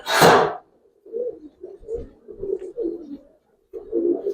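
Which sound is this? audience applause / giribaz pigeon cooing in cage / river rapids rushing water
giribaz pigeon cooing in cage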